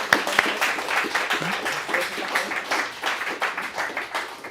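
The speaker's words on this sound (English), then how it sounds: "Another big round of applause for Team" Audience applause at a coding bootcamp graduation showcase, a dense steady wash of many hands clapping throughout, moderately loud, with no clear talk over it.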